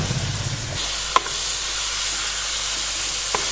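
Chicken frying in a karahi for desi murgh karahi, giving a steady broadband sizzle with a couple of sharp clinks from stirring and no talk.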